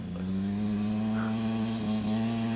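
A Yamaha YZ 125 two-stroke motorcycle engine holds a steady, buzzing drone, close and fairly loud, with a strong constant pitch and no talk over it.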